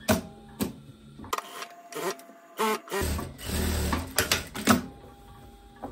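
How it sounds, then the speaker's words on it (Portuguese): Sewing machine stitching the armhole seam of a linen dress, running in short bursts with a steady mechanical whir between pauses and handling noises, fairly close and moderately loud, with no voice. "E agora, eu vou costurar a cava"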